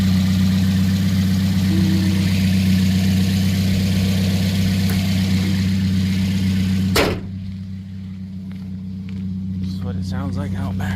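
A 2010 Toyota Yaris with about 114,000 miles idles steadily with a low exhaust hum, then a sharp knock at around seven seconds leaves a quieter idle with faint clicks.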